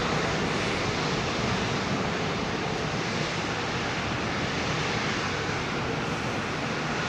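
A Boeing 747 freighter takes off at London Heathrow in full darkness, a steady, broad roar of jet engine noise holding constant throughout, with no speech.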